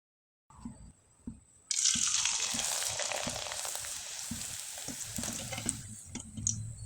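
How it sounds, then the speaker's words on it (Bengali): A rice-flour pitha drops into hot oil and fries with a loud, steady sizzle and bubbling. A few soft knocks come just before, and crackling and light tapping continue under it. "এবার চলুন কয়েকটা পিঠা আমি ভেজে দেখিয়ে দিচ্ছি"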